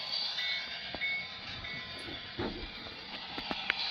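An HO scale model of the Capitol Limited train rolls through a tunnel on a layout, giving a steady low rumble of wheels with occasional faint clicks and rail joints, moderately close and without voices.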